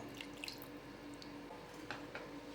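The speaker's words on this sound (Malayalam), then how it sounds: "ഒരു അരമുറി നാരങ്ങ പിഴിഞ്ഞെടുത്തത് ഒഴിച്ചു കൊടുക്കാം" Juice of half a lemon drips into a chicken marinade of yogurt, a few soft, faint liquid drops and splashes scattered over a quiet kitchen background.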